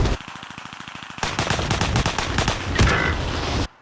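Rapid automatic gunfire from Call of Duty: Modern Warfare rattles in a fast, even burst, then gives way to denser, heavier overlapping shots and explosions that cut off abruptly.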